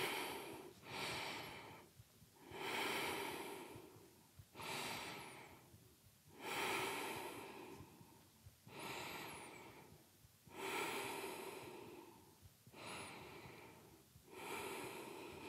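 Heavy, steady breathing during frog pose in an intermediate full-body strength yoga class, close to the mic: about eight long inhale-exhale cycles in an even rhythm with brief pauses between, no talk.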